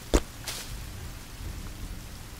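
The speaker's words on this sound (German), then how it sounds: "Jetzt fängt auch wieder an zu regnen." Soft, steady rainfall in a forest in the video game The Forest, with a single dull thud near the start, quiet and even, with no voices.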